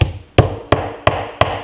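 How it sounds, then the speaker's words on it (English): A hammer drives a nail into a cooler's molle panel to pre-punch holes, landing five sharp, evenly spaced close blows with quick decays and no talk. "The first thing you're going to want to do is pre-punch some holes."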